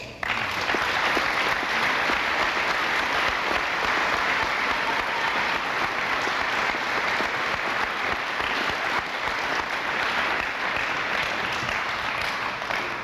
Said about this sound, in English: you really should give them a real round of applause.